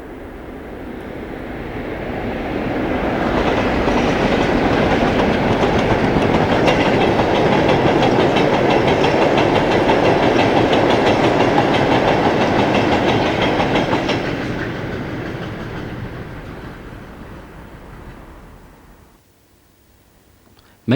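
A British Rail Eastleigh to Hoo departmental train, headed by four locomotives, passes in 1998. Diesel engine roar and rolling wagons build up, hold loud for several seconds, then fade away into near silence, with no voices.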